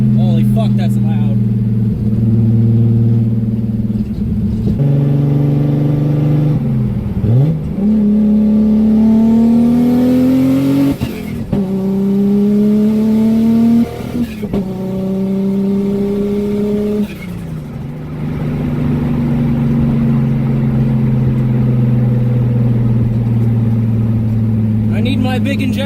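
A single-turbo RB26 engine in a Nissan S14 idles loudly and revs up several times, with rising engine pitch and turbo flutter as the throttle closes, and a voice occasionally talks over it.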